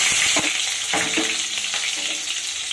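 Green chillies hit hot mustard oil in a kadai for chicken posto, giving a loud, dense, close sizzle with sharp spattering pops throughout and no talk.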